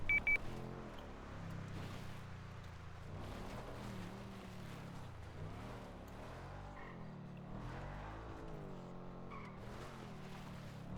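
Fast car racing in GTA 5, its engine roaring with rising and falling revs and brief tire squeals, loud and continuous throughout.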